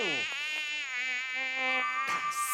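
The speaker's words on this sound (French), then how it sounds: "Saleté de moustique, je me déclare la guerre, moi." A mosquito whines close by in an animated cartoon episode, a thin, high, continuous buzz with shifting pitch over a couple of seconds, sounding alone without speech.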